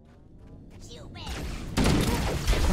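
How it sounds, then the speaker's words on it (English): Enemy shotgun blasts in Halo: Combat Evolved, a dense burst of loud, close gunfire that starts abruptly partway through after a quieter, murky stretch. "They're hitting me with a fucking shotgun!"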